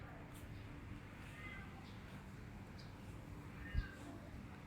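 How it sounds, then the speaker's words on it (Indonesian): Several cats meowing at a spot in Ipoh, Malaysia, heard as a few faint, scattered meows over a low background hum, with one brief thump near the end. "Banyak banget nih kucing nih."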